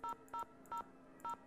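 Four short telephone keypad tones beep in the Nancy Drew: Haunted Carousel video game, evenly spaced and clean, each a brief two-pitch DTMF dial beep with no talking.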